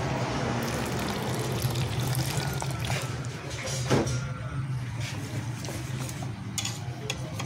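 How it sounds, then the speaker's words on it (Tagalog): Water is poured into a fried chicken batter mix, giving a steady trickling, liquid pour sound throughout, with a brief louder splash partway through and a low hum in the background. "Wala ng tubig, dagdagan."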